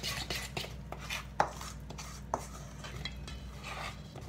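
A lemon yogurt cake batter is stirred in a bowl, a spoon or spatula scraping and knocking against the sides in a steady, close rhythm with a couple of sharper clinks.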